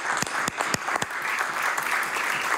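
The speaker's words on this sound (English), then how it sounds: "So let's give them a round of applause." Steady applause from members gathered in the House of Assembly, a dense, continuous clapping with a few sharper individual claps standing out near the start, heard without any speech.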